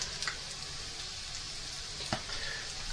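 Finely chopped garlic sizzling and frying in a pan for a rabbit and chorizo one-pan dish, a steady soft hiss with a few faint stirring clicks, no talking.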